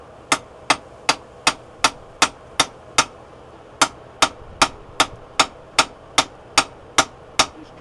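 Hammer blows forging hot steel into a hay hook at a newly set up forge, striking about twenty times in a steady, close rhythm with one brief pause partway through.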